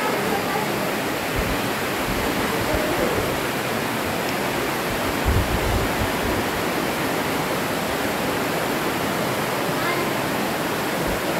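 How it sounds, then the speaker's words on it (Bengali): Water running across a wet road in Meghalaya gives a dense, continuous rushing hiss, steady and unbroken. "ভিজে রাস্তা, রাস্তার মধ্যে থেকে জল আসছে।"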